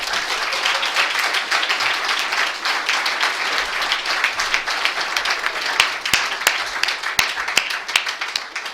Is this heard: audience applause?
yes